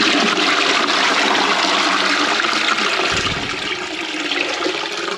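A toilet flushes loudly and steadily in a newly plumbed bathroom, the rush of water filling the whole stretch before easing slightly toward the end, with no talk over it.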